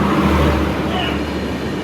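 The Puri–Tirupati express gathers speed, with an extra 3rd AC coach attached at the rear, making a steady, loud, broadband rumble heard from on board, without pause or talk.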